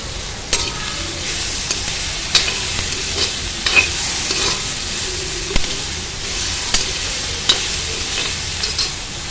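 Onion and tomato frying in a pan for a mint chutney, a steady close sizzle and hiss broken by regular scraping stirs every second or so, with no talking.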